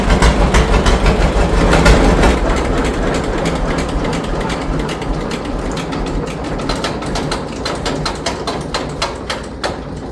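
An old John Deere 730 tractor engine chugs loudly, then its rhythmic knocking thins and slows, stuttering as it runs out of fuel.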